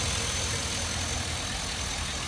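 A car engine idles steadily during an EVAP purge solenoid repair, a continuous even rumble with a faint high whine, close and unbroken, with no voices.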